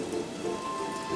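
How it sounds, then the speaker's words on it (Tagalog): Heavy rain falls steadily and loudly, a dense continuous patter on surfaces nearby with no voices. "Tsaka lakas ng ulan eh."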